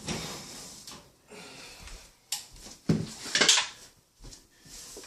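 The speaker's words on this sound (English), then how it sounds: "So all we do is open up this oven" A home kitchen oven door pulled open, with clunks and a rattle of the rack as a pan of beef ribs goes in, several separate bangs and scrapes close by with quiet gaps between them.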